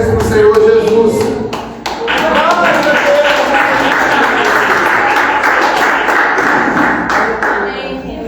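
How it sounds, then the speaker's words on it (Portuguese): A church congregation claps together in a steady, joyful burst of applause, loud and sustained throughout, with voices mixed in. "A igreja pode se assentar e glorificar a Deus com palmas bem alegres para o Senhor Jesus."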